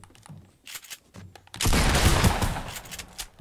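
Gunfire in the Fortnite video game (Chapter 1 Season 5): after a few quiet, scattered clicks, a loud sustained burst of rapid shots erupts and continues to the end, close and dense.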